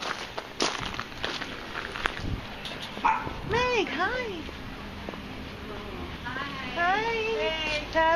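A dog gives a few short yips and whimpers at a school during a family reunion, moderately close, amid footsteps and people talking nearby.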